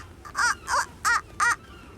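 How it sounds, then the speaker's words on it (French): Seagulls calling in a cartoon scene aboard a ferry, four evenly spaced, harsh, wailing caws in quick succession, clear and close over a low background hum. "Oui, ce sont des mouettes."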